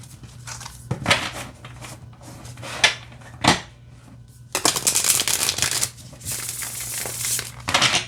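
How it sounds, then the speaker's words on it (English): Crisp bursts of tarot card shuffling, a few quick riffles and rustles close by, with a denser stretch of shuffling in the second half and a low steady hum underneath. "All right, let's shuffle."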